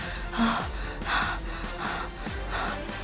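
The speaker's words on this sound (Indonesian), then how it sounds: "berkeringat dingin sambil menghela napas yang terputus-putus" A person waking from a nightmare in a cold sweat gasps in broken breaths: four short, sharp, rhythmic gasps close up, each fading into a rasp, with no speech.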